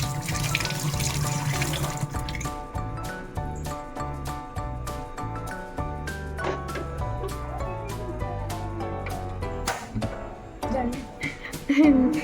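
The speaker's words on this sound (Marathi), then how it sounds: "म्हणजे स्वच्छ धुवून घ्या." Tap water runs into a kitchen sink for the first couple of seconds while fish is rinsed for a village-style fish curry, then fades under steady background music.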